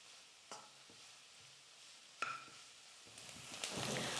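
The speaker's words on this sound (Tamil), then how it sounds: "வெங்காயம் பார்த்தீங்கன்னா ஓரளவுக்கு நல்லா நான் வதக்கி எடுத்துக்கிட்டேன்." Onions sautéing in oil as a ladle stirs them, a soft sizzle with a few sharp scraping knocks against the pan and a louder sputtering burst near the end, close and quiet with no talk.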